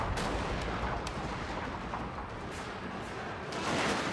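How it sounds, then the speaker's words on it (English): Artillery fires in a live-play war video game, a dense, loud stream of booming blasts and gunfire that rumbles on without pause, with a few sharper reports standing out. "artillery is here"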